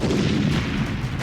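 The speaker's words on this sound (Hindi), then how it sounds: "पहले इन धमाकों को सुनिए।" Explosions from cross-border firing at the Pakistan border form a dense, continuous barrage of loud, rumbling booms and gunfire with no pause between them.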